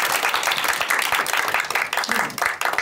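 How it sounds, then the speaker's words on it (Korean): A seminar audience at a political forum breaks into dense, continuous applause to welcome a speaker to the microphone: many hands clapping together, close and loud, sustained without a break. "여러분 큰 박수로 환영해 주시기 바랍니다."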